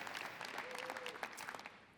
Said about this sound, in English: and happy to hear the applause.